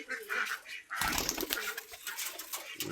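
Pigeons being fed make a steady, busy wash of bird calls and fluttering, with a sharper burst of activity partway through.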